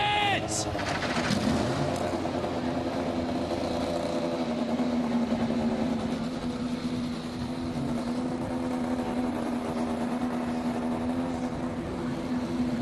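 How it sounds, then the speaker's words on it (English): Indy NXT race cars on a starting grid at the 2024 OUTFRONT Showdown firing up together, a loud sustained drone of idling engines with steady harmonic hum and a brief burst of revving at the start. "Drivers, start your engines!"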